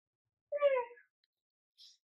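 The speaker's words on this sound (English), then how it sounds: "you can hear the cute little sigh again when he goes to sleep" An interactive plush toy cat lets out a short, soft sigh as it goes to sleep, a brief voiced breath followed by a faint high after-sound and silence around it.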